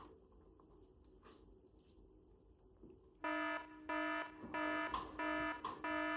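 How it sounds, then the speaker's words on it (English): A loud electronic alarm starts suddenly and sounds in repeated pulsing bursts, harsh and buzzing, after a few seconds of quiet background noise. "There's an alarm system? We need to evacuate?"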